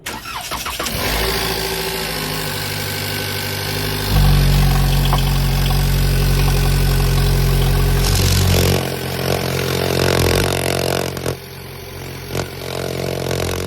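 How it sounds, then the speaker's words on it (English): A car engine cranks and starts during a PCV valve check, then settles into a steady, close idle with a loud low rumble and brief revving partway through; no voices. "So if you want to start the car"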